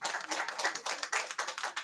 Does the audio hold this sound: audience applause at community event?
yes